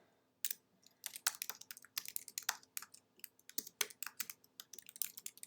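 A URL is tapped out on a computer keyboard in quick, uneven bursts of crisp key clicks, close and fairly quiet, with no talking.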